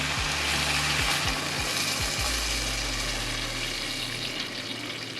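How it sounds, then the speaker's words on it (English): Rice water poured into a pan of sizzling kimchi for kimchi jjigae, a loud frying hiss with a liquid rush that gradually settles and quiets, no speech. "We're gonna add our rice water."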